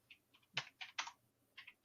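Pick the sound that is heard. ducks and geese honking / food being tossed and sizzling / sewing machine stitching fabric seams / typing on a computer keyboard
typing on a computer keyboard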